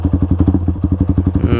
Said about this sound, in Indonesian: ini kita coba jangan yang close throttle, open throttle aja